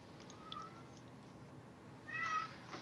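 A cat meows twice, a short faint call followed by a louder drawn-out meow, heard indoors against quiet room noise.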